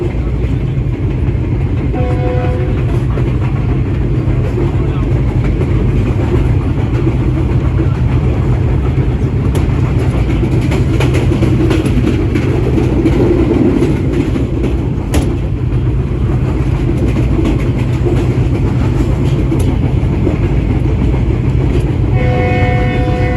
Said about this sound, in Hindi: गुजरात से हमारी ट्रेन निकल चुकी थी, तो अभी लोना मंडी आएगा।